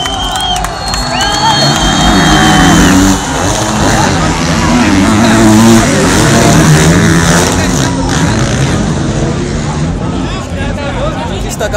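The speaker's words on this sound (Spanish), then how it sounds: "Justo acaban de pasar las motos." Motocross bikes from a top category race through a curve at a Red Bull event, engines snarling past amid a loud, cheering crowd of spectators, with a person talking close by over the din.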